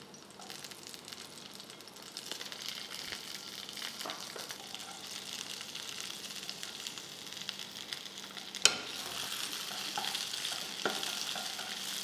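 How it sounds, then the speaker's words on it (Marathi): Chunks of cauliflower and green chili for sambar fry in a pan with a soft, continuous sizzle and quiet stirring scrapes, one sharp knock of a spoon near the end; no talking. "ह्याला व्यवस्थित आपण परतून घेऊ."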